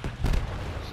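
A cannon fires in the vehicle combat game Crossout, a single short, heavy boom that rumbles briefly before fading into background noise.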